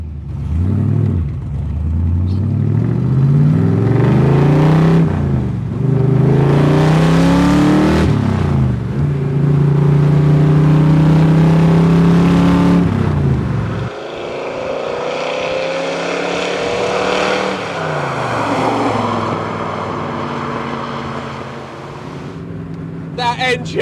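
An AC Cobra 289 accelerates hard through the gears, its very loud engine rising in pitch with each run and dropping at the shifts, a roaring, booming din heard from inside the car.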